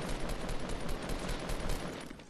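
Rapid automatic gunfire crackles in a shooter game, a dense continuous burst of shots at moderate volume through the whole stretch, with no voices over it.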